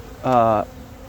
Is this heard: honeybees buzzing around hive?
yes